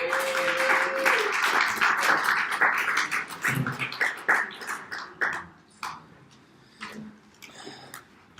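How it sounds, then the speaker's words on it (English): A Bible class audience gives a round of applause as a speaker comes up, the clapping dense at first and then thinning into scattered, fading claps. "let's give him a big round of applause"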